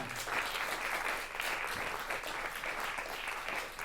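Audience applauding performers at a lecture performance in Hamburg, a steady, dense wash of many hands clapping that holds evenly loud throughout with no talk over it.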